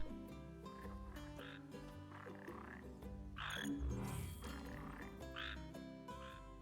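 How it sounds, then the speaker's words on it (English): Giant toad croaks in Final Fantasy XV, over game music with steady melodic tones, with a few louder bursts partway through. "Gigantoad. She wants giant toads now."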